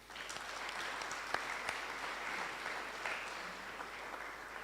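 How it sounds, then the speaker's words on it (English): Sustained applause from an audience, steady clapping filling the whole stretch with a few sharper claps standing out, no voices. "Just give them another round of applause."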